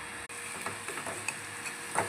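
Cleaned fish goes into a pan of frying masala, a soft steady sizzle with light scrapes and small clicks, fairly quiet and close.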